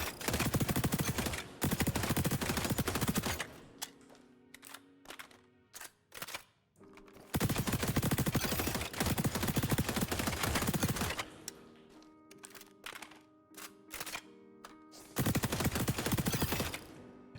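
MDR rifle gunfire from an XDefiant aim challenge comes in long, loud, rapid-fire bursts separated by short pauses with reload clicks and mechanical handling sounds, with no talking.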